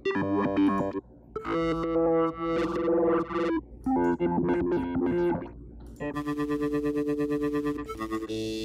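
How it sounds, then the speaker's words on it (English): Minimal Audio Rift hybrid distortion plugin grinding synth notes into loud, growly distorted tones, a series of sustained chords and stabs ending in a steady pulsing, buzzy tone. "So you can get some pretty cool effects for sure, but it is a distortion mainly."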